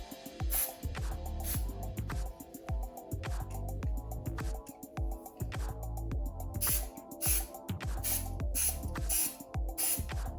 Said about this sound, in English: Just taking some Scotch spray, glue, and gluing it together.